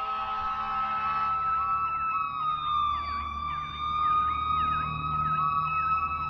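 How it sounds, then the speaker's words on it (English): Several fire truck and police car sirens wail together, rising and falling in overlapping patterns, loud and continuous over a low rumble of traffic. "Fire trucks and police cars coming in."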